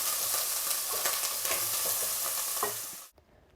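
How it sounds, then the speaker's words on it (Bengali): Ginger stirred into spices frying in a pan, browned, while making an elephant apple (Dillenia indica) pickle: a loud, steady sizzle with scraping stirs throughout, then the sound cuts off abruptly near the end. "এখন আদা দিয়ে দিচ্ছি আদা দিয়ে কিছু সময় নাড়বো"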